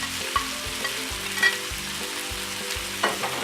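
Chicken pieces frying in a pan with cumin and coriander powder added: a steady close sizzle with stirring scrapes, under tonal background music.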